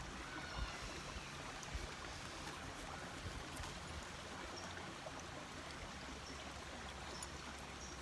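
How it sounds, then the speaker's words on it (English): A river flows close by with a steady, unbroken rush of water, constant and fairly soft, with no voices over it. "I love the sound of the river right next to me."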